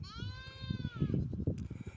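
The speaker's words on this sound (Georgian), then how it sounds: "რაიც ბღავის ესე იგი უჭირს" A red lamb bleats in several wavering, drawn-out calls, close and fairly loud over low rustling farmyard noise.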